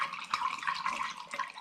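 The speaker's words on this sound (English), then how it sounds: "I'm now just going to add a bit more spring water." Spring water poured from close by into a fermenting vessel of honey-and-lavender mead to top it up near the shoulders: a steady, continuous splashing pour lasting under two seconds, with no talk.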